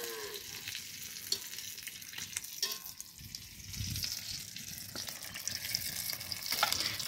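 Pea-stuffed kachori fry in hot oil in a pan, producing a continuous close bubbling sizzle that swells and eases, with occasional clinks and no speech.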